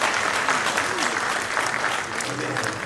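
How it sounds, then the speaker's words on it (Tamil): Audience applause at a film trailer and audio launch event: dense, sustained clapping from a large crowd filling the hall, steady and loud throughout, with a faint voice underneath. "அவருக்கு நீங்க பெரிய கைத்தட்டல் கொடுத்தாங்க"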